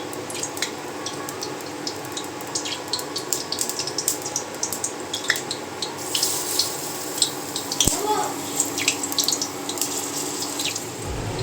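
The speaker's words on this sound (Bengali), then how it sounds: "এখানে আগে বড়াটা ভেজে নিই তেল গরম হয়ে গেছে দেখো" Bora fritters fry in hot oil in a home kitchen, giving a steady, close sizzle flecked with crackles and pops that runs through the whole stretch.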